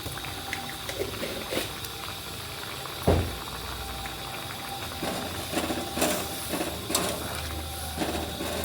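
Dhokar dalna, a Bengali lentil-cake curry with garam masala and a little sugar, simmers in a pan with a soft steady bubbling and occasional faint clinks and pops, close and low.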